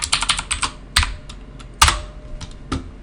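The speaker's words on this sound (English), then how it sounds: "Let me just type the password." A password being typed on a computer keyboard: short bursts of crisp key clicks, close and fairly loud, with a couple of heavier key strikes and brief pauses between groups, no talking.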